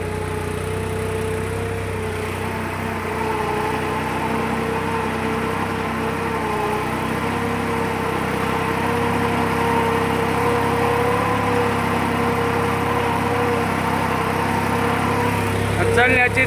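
A New Holland tractor engine runs in 4x4, a steady loud mid-pitched drone with a consistent hum throughout that swells slightly near the end.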